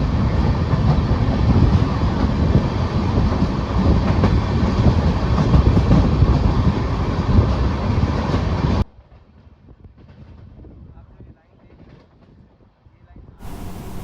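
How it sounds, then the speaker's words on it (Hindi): A passenger train pulls into Vadodara Junction railway station, a loud sustained rumble with steady clickety-clack of wheels on rail joints for about nine seconds, then a sudden drop to quiet ambience before noise rises again at the end. "ये कोई पैसेंजर ट्रेन का अराइवल होता हुआ वडोदरा जंक्शन रेलवे स्टेशन पे"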